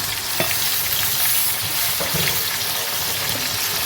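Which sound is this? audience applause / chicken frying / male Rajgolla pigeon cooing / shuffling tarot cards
chicken frying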